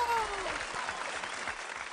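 A studio audience gives the yellow team of small children a steady round of applause on a children's TV game show, the clapping dense and even for the whole stretch.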